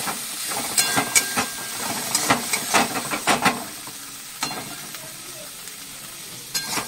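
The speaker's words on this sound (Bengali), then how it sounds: "মশলা কষানো হয়ে গেছে" Spice paste with green chilli paste and slit green chillies stir-fried in a pan on a gas stove for a fish curry, giving a steady sizzle and hiss with irregular scraping stir strokes, close and fairly loud.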